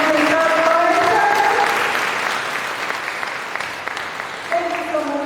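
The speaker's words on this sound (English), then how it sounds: "Can we get a round of applause?" An audience applauds two speakers after an on-stage conversation: dense, sustained clapping with some crowd voices mixed in, softening slightly midway and holding to the end.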